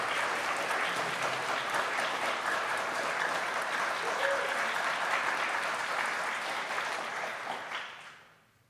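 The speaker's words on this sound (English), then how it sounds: "Well, I think that deserves another round of applause." A crowd breaks into another round of applause, a thick continuous wash of clapping held steadily for several seconds before fading out at the end.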